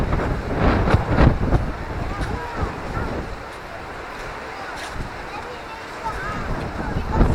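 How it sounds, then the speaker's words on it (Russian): Strong sea wind on the Black Sea coast at Gelendzhik buffets the microphone in heavy continuous gusts with surf behind it, steady and loud throughout. "Ветер трепет волосы назад."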